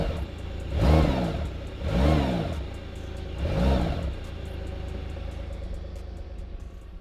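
A fast sports car engine revs hard three times in quick succession, each surge a deep rising and falling roar, then settles into a steady lower hum.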